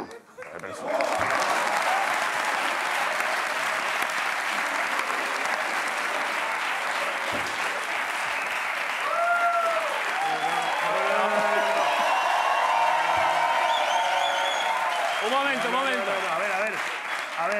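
A television studio audience at a Spanish late-night talk show breaks into sustained, dense applause lasting well over fifteen seconds, with voices talking and laughing over the clapping in the second half.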